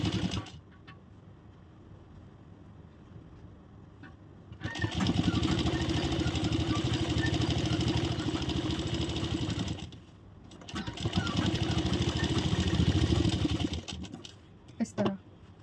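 Sewing machine stitching fabric for a ladies shirt, two long steady runs of fast mechanical whirring and clatter separated by quiet pauses, with someone speaking between them.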